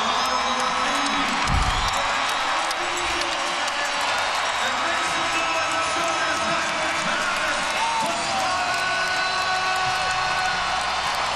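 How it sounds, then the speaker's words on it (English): A large X Games crowd cheers and roars for a Moto X rider, a dense sustained wall of whoops and applause lasting throughout, with commentators talking over it. "They're cheering him."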